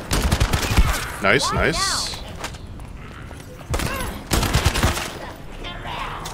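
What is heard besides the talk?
gunfire from video game The First Descendant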